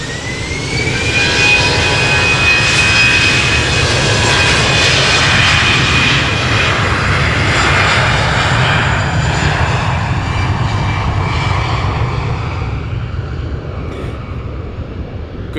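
Air Baltic Airbus A320 jet airliner in Estonian flag livery at Amsterdam Schiphol, engines roaring loud and close in a sustained broadband rumble with a rising whine, heard alone without talk.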